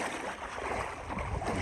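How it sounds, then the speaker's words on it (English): Wading through clear, shallow sea water at Formentor beach in Majorca, a close, continuous splashing and swishing of water around the legs with no voices. "I'll walk a bit in the water now."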